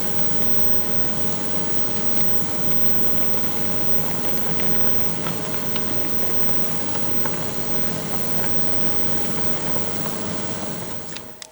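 A pot of rhubarb in water simmers with a steady bubbling hiss and faint popping, continuous and even for the whole stretch, with no voices.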